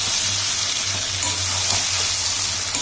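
Chicken curry masala with potatoes being sautéed in a pan, a loud continuous sizzle with occasional stirring over a low hum.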